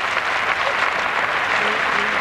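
Table tennis fans clapping steadily at a match featuring Irina Kotikhina, a dense, continuous patter of applause filling the hall with a murmur of voices beneath.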